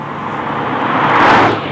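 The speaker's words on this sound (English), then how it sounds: "inside the cabin here, you're really hearing the air intake noise, which Acura actually sort of pipes into the cabin right behind your head" Air intake noise of a 2017 Acura NSX roars inside the cabin at full throttle, a steady broadband rush that swells slightly in the middle and stays loud and close throughout.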